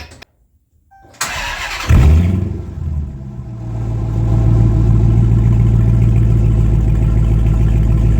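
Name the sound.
Dodge Challenger engine starting with exhaust removed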